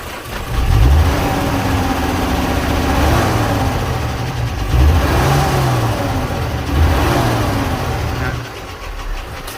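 An old vintage bus engine on a mountain road, its radiator just topped up with water, revs up close and loud in several swelling pulses over a steady idle, with a voice faintly underneath.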